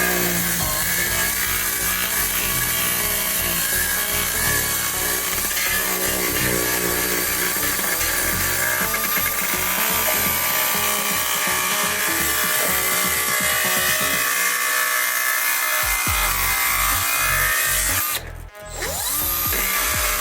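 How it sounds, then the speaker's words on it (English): Belt sander grinding down interior trim material, a steady loud abrasive whir running continuously with a brief dip near the end, no talk. "So to thin this up, I'm just gonna sand it down a little bit."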